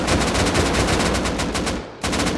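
Rapid bursts of synthetic gunfire in the video game Rust crackle continuously, with a brief pause near the end before the shooting resumes.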